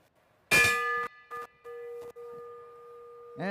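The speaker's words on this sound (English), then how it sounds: "we'll have a single bell to get the race started" A single bell rings to start a junior bicycle track race at the USA Cycling Madison Track National Championships: a loud, close clang with a sustained metallic tone that rings on and gets briefly cut off before fading.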